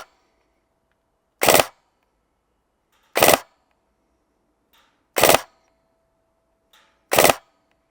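A Seekins Precision SBR8 replica rifle fires four single semi-automatic shots at an outdoor range, spaced roughly two seconds apart. Each crack is sharp and short, with near silence between them.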